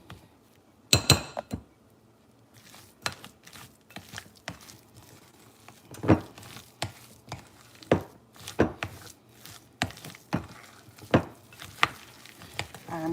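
A smothered potatoes mixture with egg is stirred in a bowl, giving a steady series of close, sharp taps and scrapes against the dish at an uneven rhythm, with a faint background hiss.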